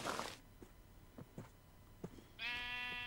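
A sheep in a video game gives one clear, buzzy bleat near the end, after a few faint, soft taps in an otherwise quiet scene.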